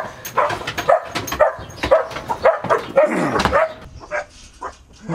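A dog barks and yips repeatedly at close range in a quick, uneven series of sharp barks, with some whimpering, before it trails off.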